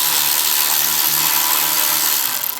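An electric ratchet backing screws out of the carburetor on a Craftsman snow thrower with a Tecumseh engine, a loud steady high-pitched motor whine running continuously, close up, then sputtering briefly at the end.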